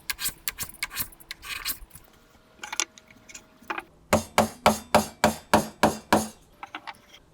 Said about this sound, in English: So I'll continue tapering this piece.